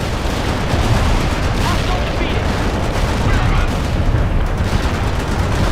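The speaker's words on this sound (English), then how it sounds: "Artillery barrage in full effect." An artillery barrage in the World in Conflict strategy game rumbles as a dense, loud roll of overlapping explosions and booms, sustained without break, while radio-style voices talk over it.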